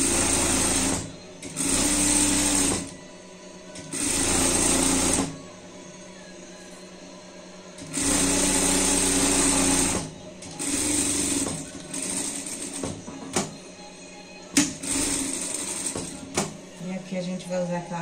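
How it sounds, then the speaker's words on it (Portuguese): Sewing machine stitching through a purse strap, running in several bursts of a few seconds each with short pauses between, steady mechanical whir at close range, some handling noise in the gaps. "Vou passar na costura aqui."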